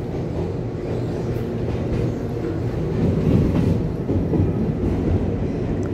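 EMU800 series electric local train departing Beihu station on the Yilan line toward Su'ao, a steady close rumble of rolling wheels and motors that builds slightly midway, with no talking.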